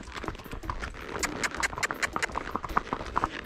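Hooves of a three-year-old mare clip-clopping in a quick, uneven rhythm of sharp knocks close by, with some rustling in between and no clear speech.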